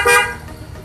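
Denso waterproof horn fitted to a Yamaha Vixion motorcycle gives one short, bright, close honk that quickly fades into low background hum.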